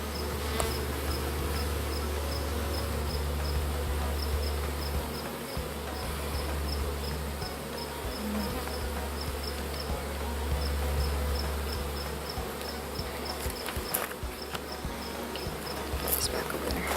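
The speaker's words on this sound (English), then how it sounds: "There's a wasp out there." A wasp buzzes outdoors near beehives just after honey extraction, a steady insect drone with faint rhythmic ticking, moderately close and continuous throughout with no talk.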